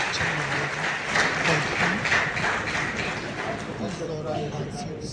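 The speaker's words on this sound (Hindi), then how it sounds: "कृपया तालियों से डीजी मैम का स्वागत करें।" Applause at a police training event for the Maha Kumbh as a director general comes on stage: a dense, steady patter of many hands clapping together, moderately loud and sustained for several seconds, with voices mixed in.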